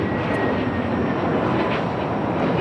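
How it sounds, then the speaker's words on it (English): A Delta Airbus A321neo jet airliner at LAX gives a steady, broad engine roar from mid-distance, constant and unbroken, with no voices. "Another flight headed out to Tampa, Florida on this A321 Neo"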